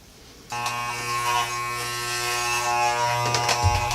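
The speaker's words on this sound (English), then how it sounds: "Almost there, but I am still clipping hairs." Electric hair clippers switch on and buzz steadily up close while clipping hair, with a loud, even motor hum that shifts slightly as they move through the hair.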